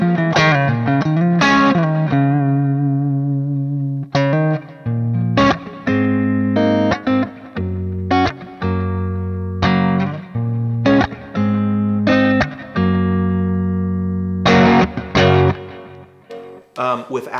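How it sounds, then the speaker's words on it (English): Distorted electric guitar through a Plexi-style amp simulation with chorus switched on plays choppy riffs and chords, with a shimmering doubled tone and clear gaps between phrases. "Well, I accidentally turned chorus on."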